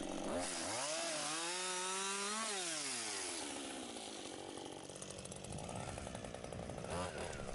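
A chainsaw revs up and bites into a tree limb, its whining pitch rising and falling as it cuts, loud and close throughout.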